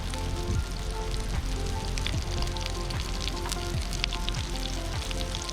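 Fishcakes fry in a hot pan, a steady dense sizzle with fine spitting crackles running throughout at moderate, even loudness with no talk.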